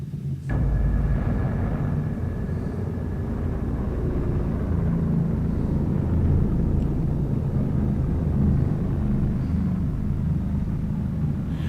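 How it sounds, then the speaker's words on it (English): Formations of German bombers droning overhead during a World War II raid on London: a steady, low, throbbing rumble that fills the air without a break and holds at constant loudness throughout. "You could hear the throbbing of these aircraft. It was pretty eerie, I must say. You could hear it was droning"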